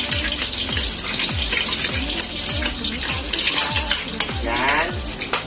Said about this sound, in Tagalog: magigisa po muna tayo ng bawang